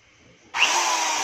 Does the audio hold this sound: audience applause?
no